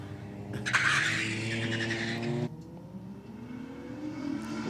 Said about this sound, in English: Cressida struggling for traction, or at least the tyres were on the sticky surface here at Sydney Dragway